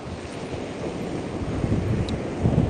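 Strong wind buffets the microphone on Brighton's seafront beach, with surf rolling in underneath as a continuous, loud rumble; kite surfers are out on the water and no one speaks.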